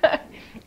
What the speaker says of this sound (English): so I still have this annoying little cough